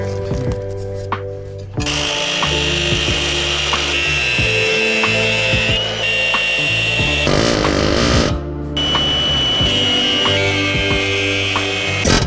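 Loud, sustained mechanical hammering and grinding from a pneumatic air hammer removing frame rivets on a 1968 Chevrolet C10, with brief pauses between bursts.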